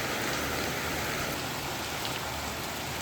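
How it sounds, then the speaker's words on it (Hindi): Heavy rain falling again in a downpour, a loud, even hiss of drops on surfaces with no pauses. "वैसे आजकल बारिश गजब है, अचानक से कूट देता है, फिर बूंदाबांदी तो चलती ही रहती है। अभी फिर से तेज हो गया।"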